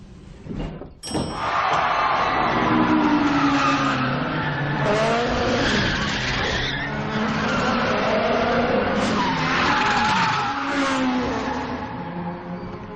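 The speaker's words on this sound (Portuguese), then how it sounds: "o drift, o esporte que hoje praticamente todo mundo conhece" A car drifts in a Fast and Furious film scene, the engine revving hard while the tires squeal in long wavering screeches. A sharp bang sounds near the start, then the skidding runs loud and continuous.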